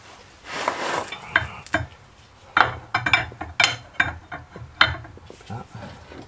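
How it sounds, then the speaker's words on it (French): Steering ball joint on a car being tightened with a large 36 mm wrench, with irregular metallic clicks, clanks and scraping knocks close up, uneven and intermittent, without talking. "Avec ma grosse clé de 36."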